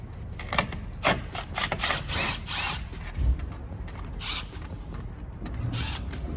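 A ratchet wrench works on the intake manifold of a Ford F550 truck, giving irregular bursts of clicking and mechanical creaks, close and moderately loud, with no talking.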